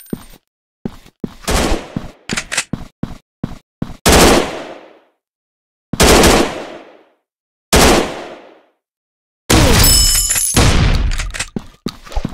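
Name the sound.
gunfire in the Android FPS game Secret Agent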